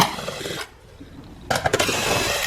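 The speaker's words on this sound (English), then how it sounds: "we need to remove the 4 bolts that hold this air filter box on, or the cover" An 8mm socket wrench backs out the bolts on the air filter box cover of a 2012-2019 Ford Focus, with close ratcheting rattles before a brief quiet pause, then a burst of quick clicks and clatter.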